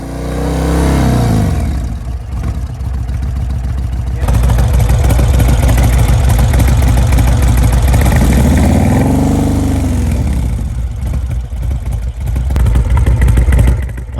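A V-twin superbike engine runs loud and close, a throaty steady roar with swelling revs that rise and fall twice, continuous throughout.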